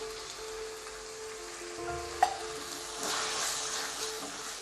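Tomatoes drop into a hot pan of spiced masala for prawn biryani, giving a continuous frying sizzle with a brief clink near the middle and a louder surge of crackling toward the end.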